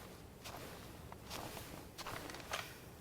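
Several soft, close footsteps land in an irregular rhythm, dry and dead-sounding with no room echo, over a faint low background hiss.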